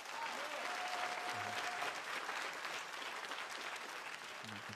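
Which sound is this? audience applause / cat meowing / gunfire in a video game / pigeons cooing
audience applause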